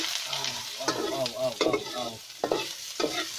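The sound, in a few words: onion frying and being stirred in a pan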